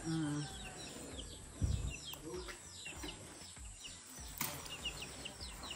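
Chickens cluck and call on a rural property, intermittent bird sounds heard at moderate distance amid outdoor background noise and occasional voices.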